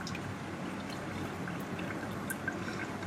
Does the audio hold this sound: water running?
yes